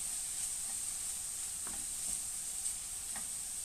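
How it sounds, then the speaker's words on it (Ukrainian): Veal liver frying in a pan as flour is sprinkled in and stirred, a constant high hiss with a few faint spoon scrapes, moderately quiet. "посипав і одразу перемішуємо"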